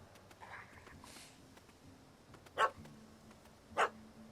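A dog barking in The Witcher 3, two sharp, separate barks about a second apart over quiet game ambience, with faint background sounds between them.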